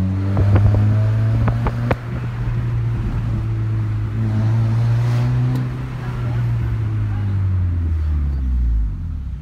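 A loud, rough Honda Civic engine with the exhaust tip removed rumbles steadily throughout, low and throaty, with wind buffeting the microphone and a few sharp clicks early on.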